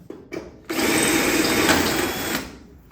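A power tool clears paint from the bonnet of a 1966 Triumph GT6, with a couple of short starts, then a steady, loud, close whine for about two seconds that winds down.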